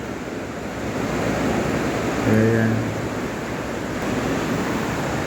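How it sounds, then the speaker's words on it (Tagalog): A sudden, heavy downpour in Brooke's Point roars as a constant loud hiss that swells briefly in the middle, while a person speaks a single short word over it. "Sobrang lakas ng ulan"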